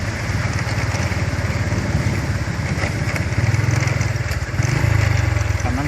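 A motorcycle engine running steadily nearby while parking at a roadside spot, a continuous low rumbling drone that swells slightly toward the end, with no speech over it.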